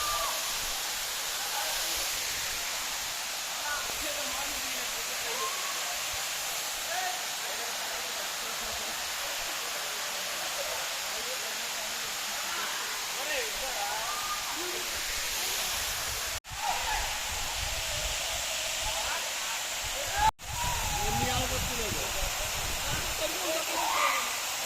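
A waterfall at Penchalakona pours down from above in a steady, enveloping rushing roar that fills the scene, broken only by two brief dips in the sound.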